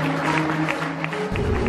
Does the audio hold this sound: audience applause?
yes